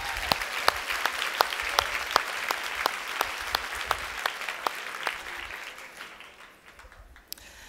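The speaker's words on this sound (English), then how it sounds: "let's give them all a huge round of applause." A crowd claps steadily, a broad wash of applause with sharp individual claps, fading out toward the end.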